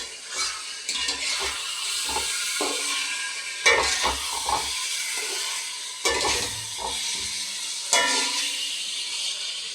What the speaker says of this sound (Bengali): দেখো মাংসটা আমার কষা হচ্ছে।